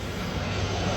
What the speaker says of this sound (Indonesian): Ada pesawat lewat kok